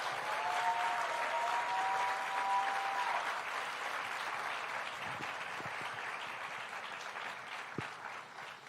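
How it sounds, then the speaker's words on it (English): Sustained audience applause, steady and dense, fills a hall at an Independence Day tribute to war widows and mothers, thinning slightly toward the end with a few louder individual claps. "Let's just commemorate them with one round of applause"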